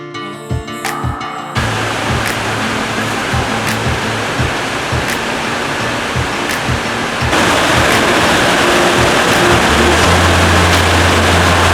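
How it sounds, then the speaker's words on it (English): A waterfall with only a little water flowing at Babcock State Park, West Virginia, heard from just below the falls as a loud, steady rushing wash with a few brief ticks near the start. "So even though there's not a lot of water flowing, it's still a beautiful spot down here just below the falls."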